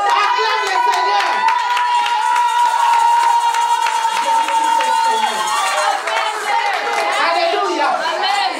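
A church congregation claps and cheers loudly and continuously, with rhythmic hand claps, crowd voices and shouts blended into a dense, close wash of sound.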